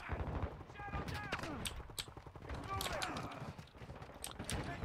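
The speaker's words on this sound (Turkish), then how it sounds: "Nereden sıkıyor ya? Binadan mı?" Gunfire in the video game Call of Duty Warzone 2: a busy stretch of repeated shots and bursts, loud and close, with game effects and a voice talking over the action.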